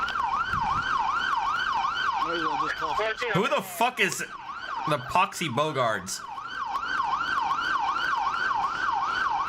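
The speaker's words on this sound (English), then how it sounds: "I'm gonna go turn my siren off." A video game police car siren wails, rising and falling continuously at a steady, loud level, with a voice cutting in briefly partway through.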